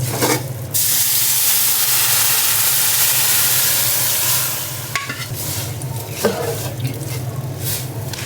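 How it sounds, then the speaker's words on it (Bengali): Vermicelli (semai) fries in a pan for an Eid sweet. A loud, steady hissing sizzle fills the first half, then it eases into quieter frying with scraping stirs and occasional utensil clinks. "সেমাইটাকে ভেজে নিতে হবে।"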